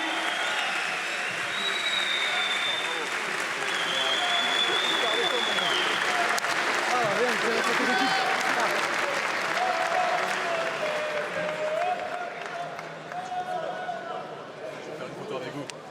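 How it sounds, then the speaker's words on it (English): Applause from a fight crowd honoring MMA fighter Anthony Dizy after a comeback win at a Hexagon event, sustained and dense for the whole stretch, with some cheering and a voice speaking over it. "Vous pouvez applaudir bien fort Anthony Dizy."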